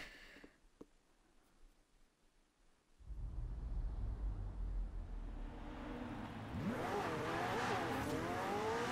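A race car engine in a racing video game roars up steadily and loudly after a quiet start, a sustained accelerating drone with rising pitch sweeps toward the end.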